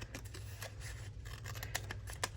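Scissors snipping through a strip of paper in a quiet room, a run of short crisp cuts close by, several separate snips with a couple of sharper ones near the end.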